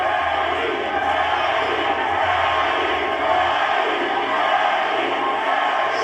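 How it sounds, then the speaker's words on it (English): Boxing arena crowd during a professional bout, a continuous roar of many voices hanging in the background as a dense, steady wash without distinct peaks. "Listen to that crowd. They're loving this."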